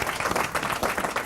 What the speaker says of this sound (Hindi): इतनी सुंदर और आसान डेफिनेशन के लिए तालियां तो बनती हैं यहाँ पर